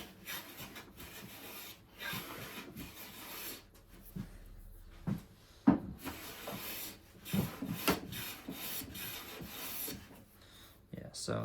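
A Juuma No 4 bench plane is pushed along a cherry wood board, making repeated rasping, shearing strokes of uneven length with short pauses and occasional knocks between passes, close and clear.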